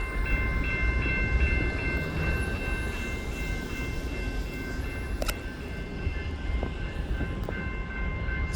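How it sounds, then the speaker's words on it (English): EXO commuter train pulling out of the yard at Montreal West station in winter, a steady loud rumble of rolling rail cars with a few sharp clanks and faint tonal squeals, close by. "So here's another Vaudreuil train coming out of the yard"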